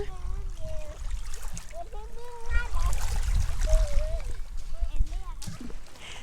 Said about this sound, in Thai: มีคลื่นมา เบาๆนะคะ